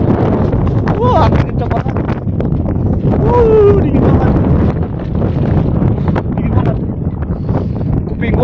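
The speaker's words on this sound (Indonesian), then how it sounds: "Wah, angin kencang banget. Dingin banget." Strong, cold wind roars steadily across the microphone on a fog-covered volcanic mountain trail, with people talking and shouting under the constant gusty rush.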